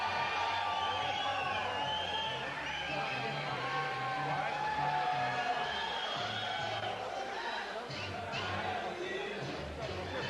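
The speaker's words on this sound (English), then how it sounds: "We have a very enthusiastic crowd," Boxing crowd at the Celebrity Theater in Phoenix, Arizona, a steady distant murmur of chatter with occasional whoops and shouts, mostly beneath a commentator's voice.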